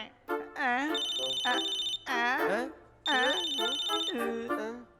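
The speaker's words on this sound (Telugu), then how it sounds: "సార్ ఫోన్ ఎత్తండి." A phone rings in a rhythmic, melodic ringtone pattern. Bursts repeat about once a second, close and clear, with no talk over it.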